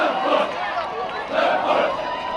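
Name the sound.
family and friends cheering as Marines run in formation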